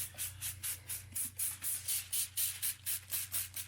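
A spray bottle of water pumped in quick repeated bursts over maple spare ribs, about a dozen short hissing sprays in steady rhythm, close and clear.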